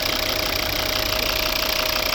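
A steady, even idle of a 2012 Volvo V50's 2.0 five-cylinder D5 diesel engine, with a low rumbling knock, running continuously at close range with no other sounds.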